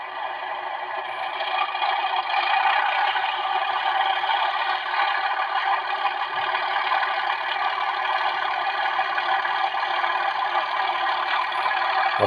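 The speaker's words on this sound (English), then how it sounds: "Notch down. Put the diesel thrash on." Steady droning rumble of an OO-gauge model railway Class 37 diesel locomotive sound, held constant and fairly loud throughout with a faint clatter, no voices.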